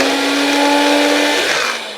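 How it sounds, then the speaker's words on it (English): A small countertop blender crushes ice with a loud, whining motor roar that holds steady, then drops in pitch and fades as it winds down near the end. "Honestly, for this little blender, that's pretty powerful."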